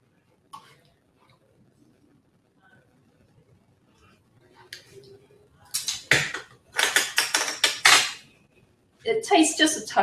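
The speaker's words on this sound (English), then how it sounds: "Let me get a spoon." In a home kitchen, a spoon is fetched: after a quiet stretch with faint movement, bright metallic clinks of cutlery and dishes come in quick loud bursts near the end.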